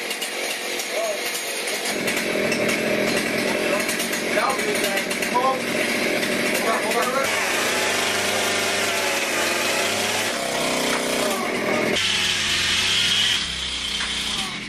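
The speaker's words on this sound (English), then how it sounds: "I was barely able to even hold on to that chainsaw" A chainsaw runs continuously, buzzing loudly with shifts in pitch as it works, while people talk over the noise.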